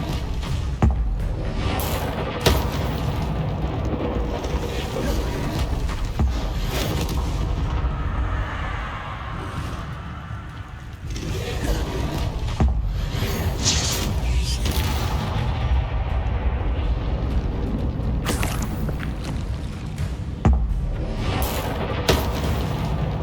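A fire spell cast in the video game Hogwarts Legacy: a continuous loud roaring, booming blaze with rumbling low end and crackling bursts, dipping briefly midway before surging again.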